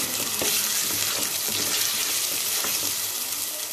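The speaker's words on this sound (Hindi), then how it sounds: "हमने अदरक और लहसुन के पेस्ट को भी 2 से 3 मिनट के लिए प्याज के पेस्ट में भून लिया है।" Ginger garlic paste fries in onion paste for a chicken white karahi, giving a steady, close sizzle and hiss with light stirring scrapes throughout and no talk.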